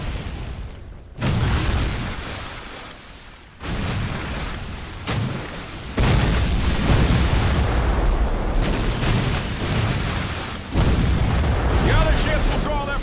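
Cannon fire in a Civil War naval video game: several heavy, booming blasts land a few seconds apart over a steady rumble of battle, with voices shouting between the shots.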